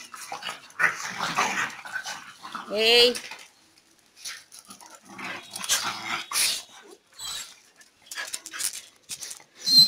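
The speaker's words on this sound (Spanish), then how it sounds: "Ellos son los perros de mi hermana." Dogs at play give off scattered growls, whimpers and yips in short bursts close by, broken by quiet gaps, with a person calling out once amid the noise.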